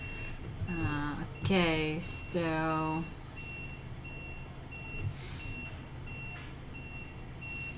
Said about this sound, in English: The backing up truck is annoying.